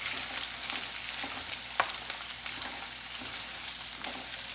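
Fresh turmeric and green chillies fry in hot oil for a pickle, giving a steady close crackling sizzle with a few sharper spatters and pops throughout, no voices.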